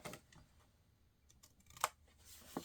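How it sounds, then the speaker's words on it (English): Scissors snip off excess cardstock during card making, giving a couple of short, sharp, crisp cuts against a quiet room with faint rustling. "And then snip off the excess."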